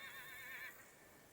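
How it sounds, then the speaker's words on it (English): A single horse neighs in Humankind, a brief quiet whinny that trails off into faint ambience, with no talking. "Actually, no, that's a horse."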